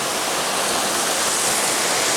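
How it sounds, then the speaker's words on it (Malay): The Alumu waterfall in the interior of Aceh, a steady, dense rush of falling water that fills the whole short stretch at an even loudness, heard alone with no voices. "di air terjun Alumu"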